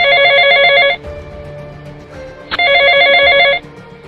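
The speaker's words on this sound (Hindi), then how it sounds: "घबराई हुई हसीना मलिक की अम्मी जान अपना फोन उठाकर डीएसपी सर को कॉल करती हैं।" A telephone rings twice in loud electronic bursts with a short pause between them, alone with no talk, as an anxious mother places a call from her phone.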